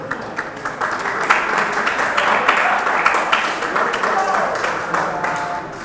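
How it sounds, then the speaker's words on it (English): A classroom audience applauding during a cybersecurity lecture, steady scattered clapping for several seconds with a voice speaking over it. "let's clap for them"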